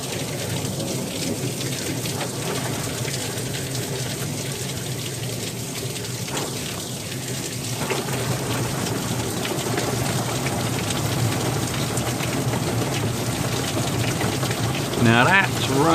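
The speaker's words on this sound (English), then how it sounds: "Now that's raining." Heavy rain pours steadily in a street during a thunderstorm, a loud, constant wash of drumming drops with low thunder rumbling underneath and a voice speaking briefly near the end.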